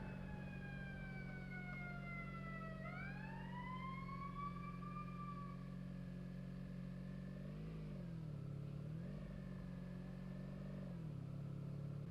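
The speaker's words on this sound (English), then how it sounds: "Well, guess 2 fire trucks is enough" Two fire trucks pass with sirens wailing, the tones sweeping and bending in pitch as the vehicles go by over a steady low engine rumble, moderately distant.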